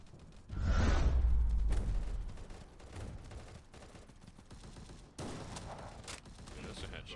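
Gunfire from the shooter game Gods of Boom bursts out in a loud rapid volley, then quieter scattered shots follow with a second sharp burst later, while a voice talks faintly in the background.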